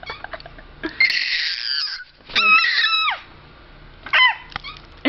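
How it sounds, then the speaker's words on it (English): A five-month-old baby screams in three shrill, piercing bursts separated by short pauses, loud and close, with quieter fussing sounds between them. "You're screaming a lot. You know that, right?"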